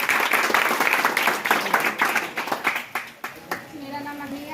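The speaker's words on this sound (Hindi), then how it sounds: "इसलिए एक बार और ताली बजाइए।" A crowd claps along a roadside or village gathering for a girl cyclist, dense applause that thins into scattered claps and fades out, with faint voices near the end.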